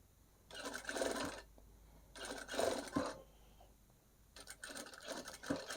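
A sewing machine stitches fabric in three separate runs of rapid mechanical whirring, each lasting about a second or more. Quiet pauses fall between the runs, and the sound is close and moderately loud.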